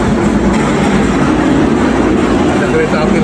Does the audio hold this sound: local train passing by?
yes